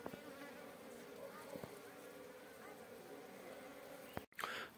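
Asian honey bees (Apis cerana indica) drone steadily around a settled wild colony's comb in Mandi, Himachal Pradesh, a continuous close buzz with a few sharp knocks and a brief dropout near the end.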